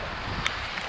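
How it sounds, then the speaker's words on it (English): A strong gust of wind of roughly 15 to 20 mph blowing across a cornfield, a continuous whooshing rush buffeting the microphone, with a brief sharper flutter midway. "There goes a nice gust. Probably a 15-20 mile an hour gust."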